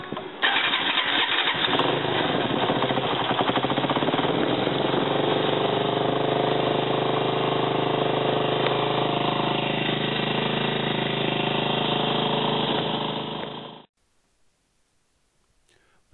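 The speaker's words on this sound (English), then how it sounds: "now first turn the engine on and heat the oil" A Kymco CK125 scooter engine idles steadily for about fourteen seconds, a constant buzzing drone close by, then cuts off abruptly into near silence.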